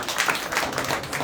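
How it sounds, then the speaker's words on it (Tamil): A church audience applauds in a short, dense burst of clapping that carries evenly through the moment. "கைதட்டுங்கப்பா."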